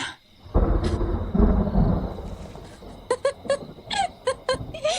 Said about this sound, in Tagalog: Ganyan yung kulog nun.